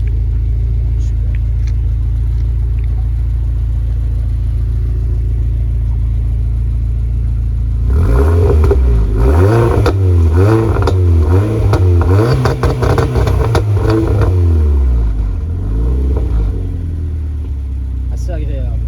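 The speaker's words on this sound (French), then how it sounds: "On entend la décharge turbo." An Audi S3 8P's turbocharged engine revving hard from inside the car, loud and close, rising and falling through several surges with the whoosh of the turbo blow-off between them, over a low steady cabin drone.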